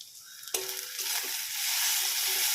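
Chopped onion frying in oil with turmeric and a green chili, a sharp sizzle breaking out suddenly as the onion hits the pan and then holding steady, bright and close.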